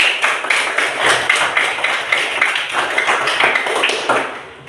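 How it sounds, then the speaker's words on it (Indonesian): A classroom of fourth-grade children at an elementary school claps together in quick, rhythmic bursts, loud and close, tapering off at the end. "Beri tepuk tangan untuk kita semua."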